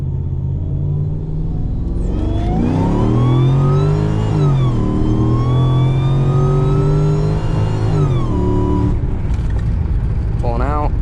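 A Mercedes E55 AMG engine pulls hard during a data-logged acceleration run, its rising harmonic whine and rumble climbing in pitch, briefly dipping as it shifts, then climbing again before the revs fall away.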